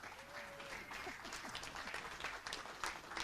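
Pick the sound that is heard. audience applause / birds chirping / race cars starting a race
audience applause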